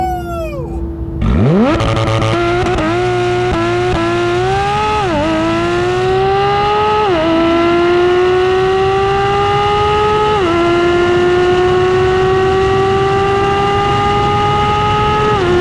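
A C8 Corvette or Porsche GT3 RS launching down a quarter-mile strip: a loud engine note climbing steeply, then rising through several quick upshifts, each marked by a brief dip, before holding a sustained high roar, close and with no talking.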